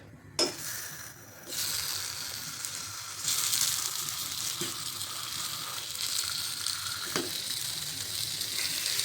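Chopped tomatoes hitting hot oil for a tomato chutney, a broad steady sizzle that swells after the first second and grows louder around three seconds, with a few clinks of a utensil against the pan along the way.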